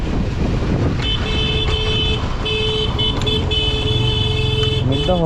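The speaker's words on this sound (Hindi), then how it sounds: "हॉर्न इसलिए मार रहे हैं क्योंकि अगर कोई जेसीबी मशीन या कोई गाड़ी आ रही होगी तो वहाँ पर रुक जाएगी" Horn honks from a vehicle on a narrow mountain road near Dharchula, sounding in repeated steady blasts over a loud, continuous engine and road rumble.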